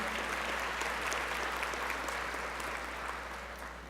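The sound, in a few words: applause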